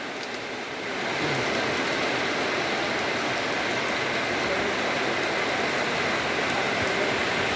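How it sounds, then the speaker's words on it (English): Heavy rain falls steadily in a rural village in Bangladesh, a dense, continuous hiss and patter that swells louder after the first second and holds even, with no talk over it. "So the rain getting heavier,"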